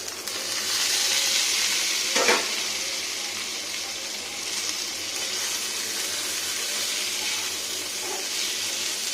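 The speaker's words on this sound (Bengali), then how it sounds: "খুব সুন্দর ফ্রাই" Eggs frying in a pan alongside potato and okra (bhindi) give a constant, broad sizzling hiss that stays loud and steady throughout, with a brief crackle near the start and no voices.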